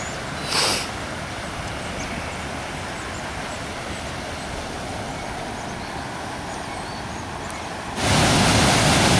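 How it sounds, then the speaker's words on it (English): Floodwater pours over a waterfall in Upper Bucks County after heavy overnight rain, a steady, loud broadband roar with no breaks, briefly louder near the start and swelling again toward the end. "Another waterfall."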